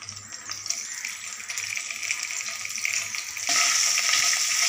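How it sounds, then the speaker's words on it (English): Ginger paste frying in a pan with red chili for Bengali shukto, a steady close sizzle with a hissing crackle that grows louder near the end, no talking. "Ginger paste are fried now"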